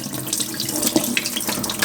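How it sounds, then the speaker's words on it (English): Tap water runs steadily into a kitchen sink while raw potatoes are rinsed of starch, a close, continuous splashing rush with small irregular spatters and no voices. "I give them a nice little rinse until the water is nice and clear."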